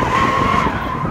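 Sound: 1972 AMC Javelin race car sliding sideways at autocross

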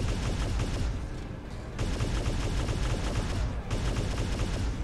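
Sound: airstrike explosions in video game War Robots

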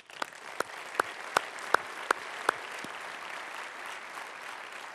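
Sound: audience applause

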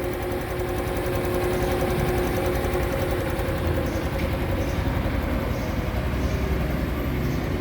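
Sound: Honda Wave 125i motorcycle engine idling after start

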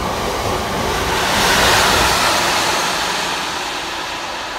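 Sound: Colas Rail freight train passing

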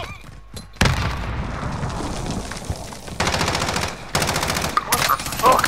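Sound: grenade explosion and gunfire in Warzone video game

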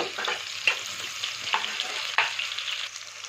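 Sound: chopped onion frying and being stirred on low flame

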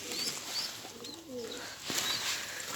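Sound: pigeons cooing while being fed

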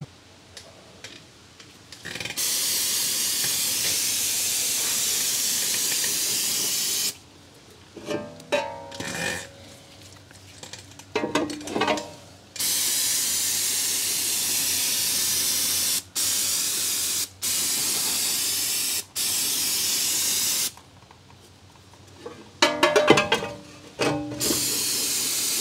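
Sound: brake cleaner spraying on a Jeep brake caliper

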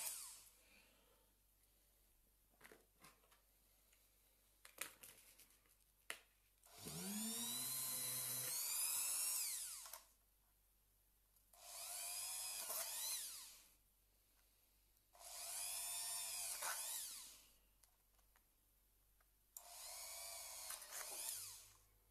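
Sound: drilling holes for an RC crawler build

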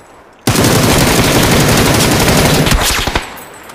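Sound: machine gun fire in video game PUBG

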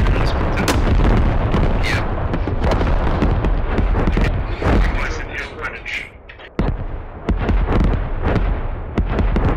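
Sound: artillery shells exploding in video game Squad

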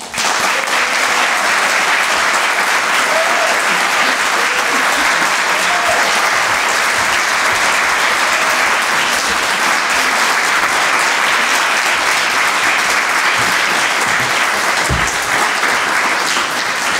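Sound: audience applause welcoming Professor Alfredo Matus Olivier

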